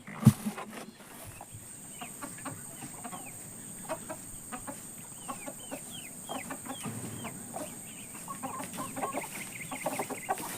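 Newly bought chickens at a family garden farm give repeated short clucks and calls, scattered near and far over a steady outdoor background for several seconds, with no talk.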